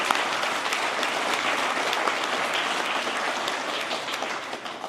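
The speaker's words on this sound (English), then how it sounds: "I would like to give all of our teams a round of applause" Steady, dense applause from a crowd at a university graduation ceremony, continuous clapping at even volume for the full stretch with no speech over it.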